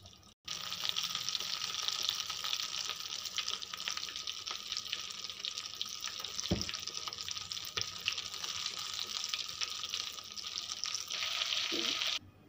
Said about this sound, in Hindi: इसी तरह से दूसरे भी फ्राई करेंगे।